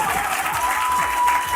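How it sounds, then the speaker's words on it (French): Applause and cheering from a quiz-show studio audience, sustained and dense for the whole moment, loud and close with no talk over it. "ils vont crier, ils vont applaudir pour encourager leurs collègues"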